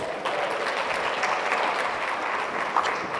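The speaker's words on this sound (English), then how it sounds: "Clap yourselves." A large audience at a wealth-building seminar claps steadily and densely throughout, a continuous wash of many hands with no talking.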